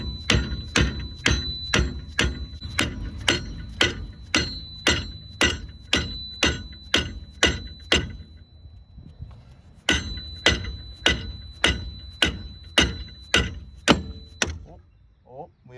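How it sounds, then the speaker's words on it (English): A hammer strikes a part on a Kaiser Jeep Gladiator J2000 axle during a Dana 44 limited-slip swap, sharp metallic blows in quick even rhythm, a brief pause, then another run of hits, loud and close. "Slide it on there, twist that baby tight, and then start hammering on it."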